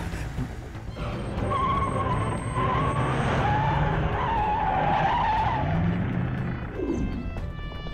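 A car skids with a long screeching tire squeal in a dubbed action movie chase scene, loud and sustained over engine noise and score.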